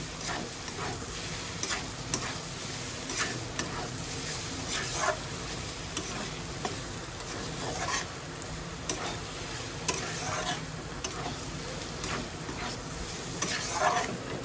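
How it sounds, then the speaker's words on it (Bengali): Curry being stirred in a wok after coriander leaves go in, giving a steady close sizzle with repeated scraping and stirring strokes throughout, without any voices. "ধনে পাতা দিয়ে নাড়িয়ে দিচ্ছি"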